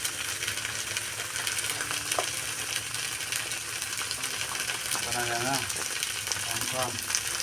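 Green chilies fry in a pan and are stirred, giving a loud, steady sizzle that runs throughout with faint scraping, and a brief voice sound rises underneath partway through.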